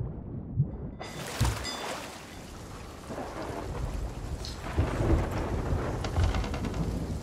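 A lightning storm in the video game Sea of Thieves opens with a sudden loud thunderclap, then steady heavy rain pours down with rumbling thunder and rain pattering on surfaces, and no talking.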